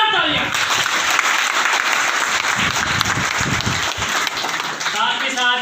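Loud, sustained applause fills a conference hall at the Shaktirveda conference in Ambala, with a voice talking over the clapping at the start and end.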